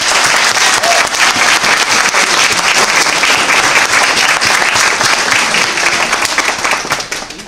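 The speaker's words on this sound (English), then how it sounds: "Round of applause." A crowd at a comic-con cosplay competition applauds a finalist with loud, sustained clapping that stays even for about seven seconds before fading slightly at the end.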